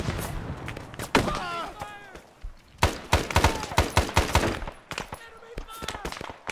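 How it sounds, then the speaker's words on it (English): Gunfire rings out in a video game battle, close bursts of rapid shots and single cracks mixed with thuds, while soldier voices shout and call out between the volleys. "Enemy fire! Taking fire!"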